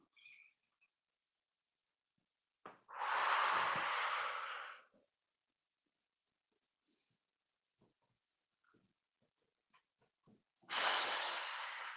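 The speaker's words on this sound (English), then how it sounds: "Just taking the time to take some really nice deep breaths" Two long, deep breaths during a tai chi class, each a broad rushing exhale lasting a couple of seconds, close and fairly loud, separated by near silence with small faint movements.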